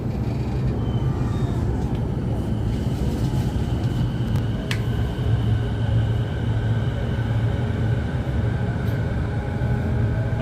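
A JR Nambu Line train ride heard from inside the carriage near Kawasaki and Shukugawara in the evening, with a steady loud low rumble and rail noise running throughout and no talking.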